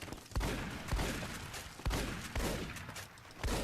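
Gunfire in the video game Fallout New Vegas, with a shotgun in play at Camp Forlorn Hope: several heavy booming shots spaced about a second apart over a busy, noisy battle background.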